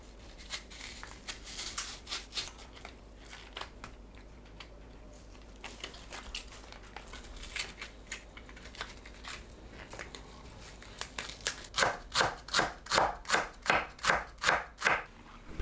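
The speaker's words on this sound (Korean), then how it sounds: "파를 채 썰어주세요" A knife julienning green onions on a board makes scattered light cuts at first, then a fast, even run of about a dozen crisp, close chops at the end, with no talking.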